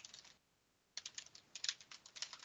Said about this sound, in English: I hear somebody typing